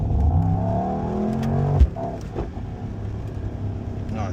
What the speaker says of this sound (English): Always make sure to be in a straight line once you floor it.